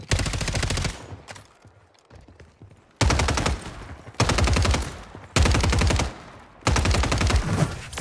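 Loud, close bursts of rapid automatic gunfire in Warzone 3, coming in several sharp volleys separated by brief quieter gaps, with no talking over them.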